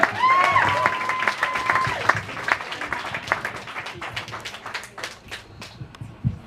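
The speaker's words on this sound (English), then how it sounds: "One more round of applause for Adrian Whitcomb." An audience applauds after a spoken-word performance at The Venue on 35th Street in Norfolk. The clapping is loud and dense at first, with a whistle near the start, then thins out and fades over several seconds.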